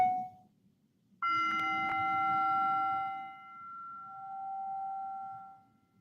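Starting bell for a meditation session: a short soft tone comes first, then a clear struck bell rings out with a sustained, slowly fading resonance, quiet and alone over faint background hiss.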